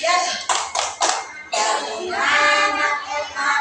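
Young children in a classroom clap their hands in a few sharp, rhythmic bursts, then chant together in sing-song voices.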